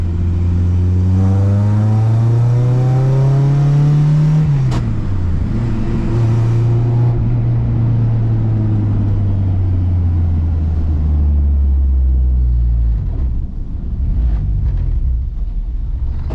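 A Honda with a K-series engine swap accelerates hard while driving, its loud engine note rising steadily through the revs, dipping briefly at a shift, then climbing again before easing off near the end.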